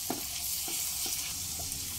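Steady sizzling of ginger garlic paste sautéing in a pan over medium flame with a few soft scraping stirs, a constant hiss under occasional light clinks of a spatula.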